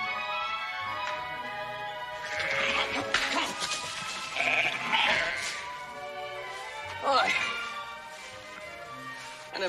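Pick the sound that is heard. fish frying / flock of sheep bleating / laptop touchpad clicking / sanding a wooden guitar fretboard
flock of sheep bleating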